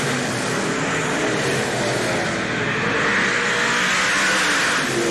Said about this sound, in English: Number 1, number 2, as the car goes streaking down the back.